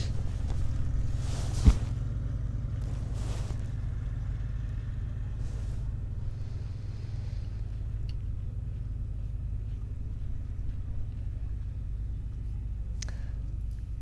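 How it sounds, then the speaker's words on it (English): Constant low rumble of background noise at a campground, steady and moderately loud throughout, with a few faint brief knocks and distant sounds over it and no clear speech. "excuse the campground noise behind me"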